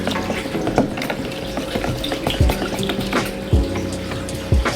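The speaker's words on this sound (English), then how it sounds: "Now I'm gonna just stir this up." Murky, foul-smelling water in a backyard pool turned fish pond is stirred up, making a steady, close sloshing and churning with a few heavier splashy swirls, and no talking.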